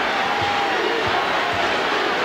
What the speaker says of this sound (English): This stunned crowd